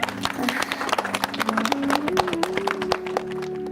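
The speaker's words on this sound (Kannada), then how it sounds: "ಚಪ್ಪಾಳೆ." Applause from a gathered group in a Kannada TV serial scene, dense clapping running throughout with a sustained musical tone and some voices underneath.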